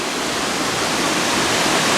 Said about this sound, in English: Just the sound of it and the power of the water gushing down the hillside here